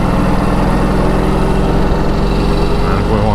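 A 1946 Indian Chief motorcycle engine runs loud and close while riding, its steady throbbing exhaust drone continuous throughout with a slight rise near the end.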